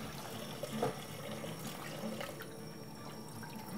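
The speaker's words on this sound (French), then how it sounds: "Pour le bain-marie, toujours de l'eau très chaude." Very hot water poured into a dish for a bain-marie in a home kitchen, a soft, steady trickling and splashing stream that runs continuously at low level.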